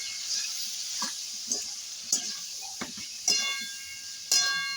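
Chopped tomato and split green chillies fry in a pan, giving a faint sizzle broken by several sharp scraping stirs and spatula clinks spaced about a second apart, with no voices.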